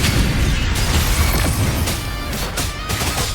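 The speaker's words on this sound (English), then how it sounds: "Another Mortar thrown at us." Mortar explosions in the video game Wuthering Waves, a dense burst of crashing, booming impacts layered over continuous battle noise, loud and close throughout.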